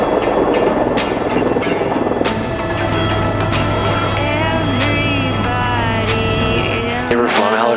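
A helicopter circles close by, its loud steady rotor chop and turbine whine running throughout with a steady low drone, swelling slightly as it passes near, while faint voices sit underneath.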